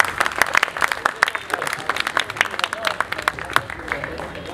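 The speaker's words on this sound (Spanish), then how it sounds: "Con ustedes, un fuerte aplauso para Gustavo." A book fair audience applauds a poet with distinct, fairly sparse claps in an uneven rhythm, moderately loud, with some crowd murmur mixed in.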